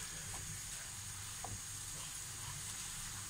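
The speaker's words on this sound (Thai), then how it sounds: "เมื่อทำเนื้อเสร็จแล้วนะคะเอาน้ำใส่ลงไป" Water poured into a hot pan after searing beef, a steady, faint hissing sizzle with soft bubbling, heard alone.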